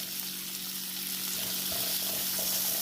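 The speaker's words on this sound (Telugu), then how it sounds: "లవంగా, దాల్చిని, యాలకు, తర్వాత ఒక తేజ్పత్తి, బిర్యానీ ఆకు, ఇవి వేసుకొని ఇవి వేయించుకోవాలి" Cloves, cinnamon, cardamom and a bay leaf fry in hot oil, giving a soft, even sizzle that holds steady throughout at low volume.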